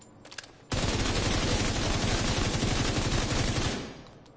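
Assault rifle fire in The Division 2 video game: a sustained, loud burst of rapid automatic shots lasting about three seconds after a brief quiet start, then fading out, with no voices.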